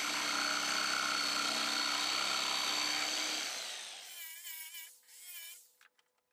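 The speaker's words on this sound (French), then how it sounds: "Coupez les coins avec la scie sauteuse." A jigsaw cuts the corners of wooden panels with a loud, steady buzzing rasp for about three and a half seconds, then winds down, leaving faint scraping and handling noises.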